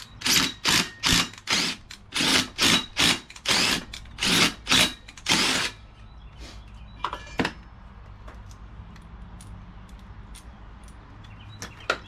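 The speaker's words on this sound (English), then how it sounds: "I've got me 4 holes marked out here that I need to drill a 1/4 inch hole." A power drill bores a 1/4 inch hole into deck wood, whirring in about ten short, loud, rhythmic pulses close by, then stopping, leaving faint outdoor sounds and a few light knocks.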